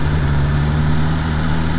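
A BMW S 1000R motorcycle idles steadily with a low, even engine hum, close and continuous throughout with no talking.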